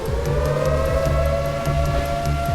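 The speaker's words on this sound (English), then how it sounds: "A flood alarm telling residents to brace for high waters, move livestock to higher ground." A civil defense air raid siren in Sumas, Washington sounds as a flood alarm, one steady sustained wail ringing loud and continuous throughout, with a low rumbling background underneath.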